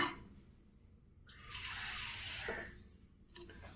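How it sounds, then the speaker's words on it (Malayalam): Water is poured into a pan of karimeen fish curry, one close, steady splashing pour lasting about a second, then a few faint drips and clinks in a quiet kitchen. "ആവശ്യത്തിന് വെള്ളം ചേർത്ത് നമ്മളൊന്ന് റെഡിയാക്കി മൂടി വെച്ച് തിളപ്പിക്കാം"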